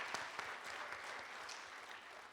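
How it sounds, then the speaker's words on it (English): Applause from the audience at a Latino and immigrant Senate candidate forum in California, a faint, distant, even patter of many hands that continues steadily from start to finish. "give Congresswoman Chu a round of applause"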